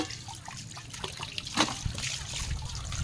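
Strong tap water runs steadily into a sink while dishes are washed, a close trickling splash with a brief louder splash partway through.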